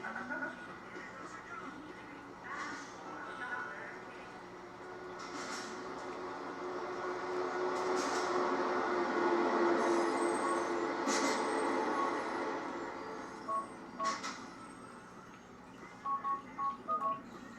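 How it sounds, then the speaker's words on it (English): Train rolling along the rails in Grand Theft Auto, a steady rumbling drone that builds and fades, with faint wheel squeals and scattered short beeping tones layered over it. "I want to get to the train."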